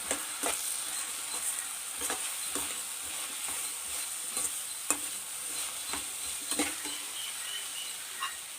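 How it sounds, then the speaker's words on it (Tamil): Vegetables for chicken dalcha sautéing with garam masala, salt and chili powder in a pan, a steady close sizzle broken by regular scraping stirs of a spoon. "போட்டு நல்லா வதக்கலாம்"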